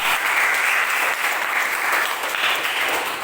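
Classroom applause from a group of students, steady and dense clapping filling the whole stretch at close range with no talk over it.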